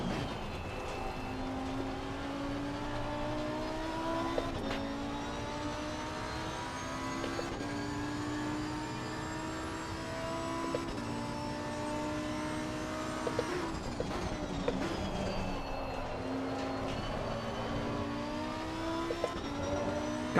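A Lamborghini GT3 race car driven at Watkins Glen in Assetto Corsa Competizione, its engine revving high and shifting through gears repeatedly, rising and dropping in pitch over a steady, moderately quiet drone with no talking.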